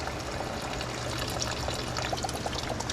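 New antifreeze poured into the radiator of a 1933 Plymouth sedan, a steady close liquid pour with trickling and gurgling running continuously and alone, with a low hum underneath.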